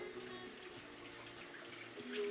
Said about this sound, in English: Rinse your hands off.